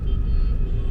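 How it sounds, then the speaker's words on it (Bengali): Late-night road traffic in Mumbai, a low continuous rumble of passing car engines nearby, brief and steady with no voices. "কত গাড়ি ঘোড়া,"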